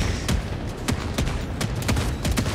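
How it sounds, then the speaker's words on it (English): Autocannon firing in Helldivers 2, a rapid irregular string of loud booming shots, roughly a dozen in under three seconds, with explosive rumble filling the gaps. "My auto cannon shooting it right now"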